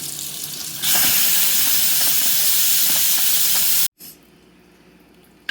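A loud, steady rush of hissing steam released from a pressure cooker of dal fills most of the clip, then cuts off abruptly and leaves a quieter hiss trailing behind.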